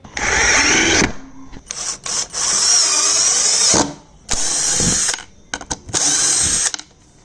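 A budget cordless impact drill tightens a screw in several loud, close whirring bursts, each lasting about a second or more, separated by brief pauses of near silence.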